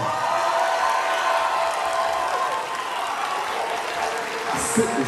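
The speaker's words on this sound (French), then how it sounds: "On peut l'applaudir s'il vous plaît, Célène." A convention crowd applauds a cosplay jury member named Célène, a broad diffuse wash of clapping and faint cheers heard from a distance and fading slightly toward the end.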